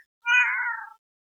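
A cat gives a single clear meow, close and fairly loud, lasting under a second against silence.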